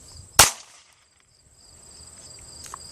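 A single sharp metallic snap as the hammer of a Kimber Ultra Carry .45 ACP 1911 pistol falls after the trigger is pulled, close and brief, then near silence with faint handling noise.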